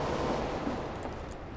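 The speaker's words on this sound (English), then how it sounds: "Machine guns are like overpowered!" Machine gun fire in the video game CS:GO comes as one dense, continuous burst that stays loud from start to end, with no talking.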